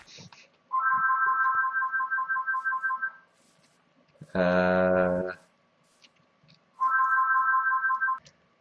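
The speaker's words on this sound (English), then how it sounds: "Okay, phone stopped ringing." Phone ringtone playing in bursts: a rapid repeating electronic trill, a brief richer chime, then the trill again, fairly loud and close over quiet background.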